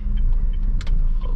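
Honda Mobilio car pulling away in first gear after the clutch is released, a close low engine rumble with a few brief higher clicks and rattles over it.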